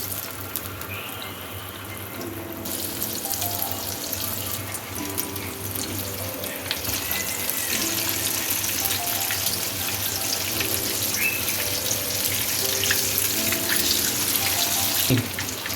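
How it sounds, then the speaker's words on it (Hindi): Mutton chops frying in hot oil give off a steady, broad sizzling hiss that swells louder after a few seconds and keeps crackling near the pan with no one talking. "जब ऑयल गर्म हो जाए तो इसमें ये चॉप्स ऐड कर दें।"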